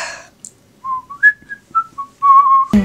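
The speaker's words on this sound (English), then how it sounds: "You have to whistle when you're done." A person whistles a short, wavering tune of several clear notes after eating chocolate, close and fairly loud in a quiet room, with a brief bump at the end.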